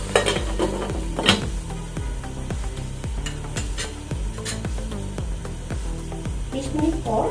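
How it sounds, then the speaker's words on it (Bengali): Duck meat is stir-fried in a pan with a quick, rhythmic series of scraping and clinking strokes from a spatula over a continuous sizzle, close and fairly loud. "মাংসটা কষছে, একটু নেড়ে চেড়ে দিচ্ছি যাতে না লেগে যায়।"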